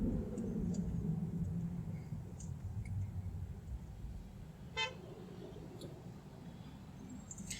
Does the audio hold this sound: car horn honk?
yes